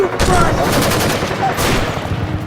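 Loud burst of gunshot sound effects, a dense volley of rapid overlapping shots filling the whole moment, with a voice faintly mixed underneath.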